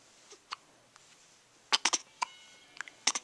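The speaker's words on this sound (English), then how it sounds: "we don't like them hiccups, do we?" A four-week-old baby hiccups up close: several short, sharp bursts, some single and some in quick clusters of two or three, separated by quiet pauses.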